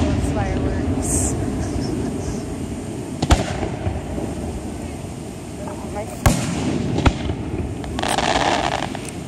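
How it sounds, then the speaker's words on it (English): Fourth of July fireworks in Falmouth burst at a distance, a few sharp booms standing out over a steady rumble of crowd noise, with people chatting throughout. "I love all those fireworks."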